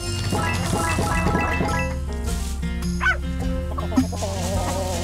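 A dog in the farming video game Blocky Farm gives a few short barks over a bright, looping music track, with a higher chirping cue near the end.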